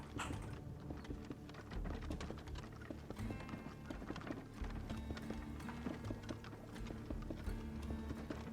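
Horse hooves clip-clop continuously on a Minecraft server, a dense, steady run of hoofbeats at close range with no talking over them.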